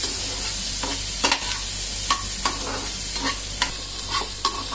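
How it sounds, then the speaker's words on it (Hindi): Onions fry in butter in a pan, giving a steady close sizzle broken by repeated scraping stirs at irregular intervals. "अब हम प्याज को डालेंगे और प्याज को हम तब तक भूनेंगे जब तक वो गोल्डन कलर की नहीं हो जाती."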